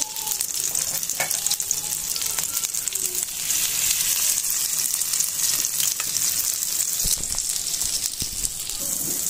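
Egg batter fritters fry in a pan with a steady, continuous sizzle and crackle, occasional soft clinks of a utensil turning them, no voices.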